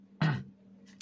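A pet bird gives a single short, husky cough, a quick raspy burst followed by two faint, brief chirpy sounds in a quiet room.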